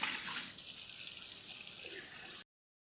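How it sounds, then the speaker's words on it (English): Running tap water pours steadily onto an IKEA Vardagen carbon steel pan being washed in a sink, a close, even splashing rush that shifts slightly midway and then cuts off abruptly. "Give the pan a good wash and it's ready to use."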